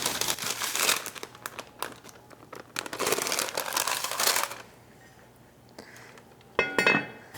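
Parchment paper crinkles and rustles loudly as sourdough bread is lowered into a pot, followed by a quieter pause and a brief clink of the pot.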